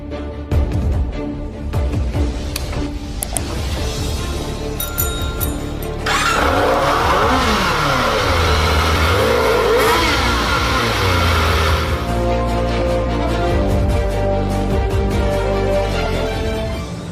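A modified 2017 Yamaha R15 V3 motorcycle engine revs repeatedly, with sharp rising and falling pitch sweeps and a sustained high-rev stretch in the middle, loud and close with no talking.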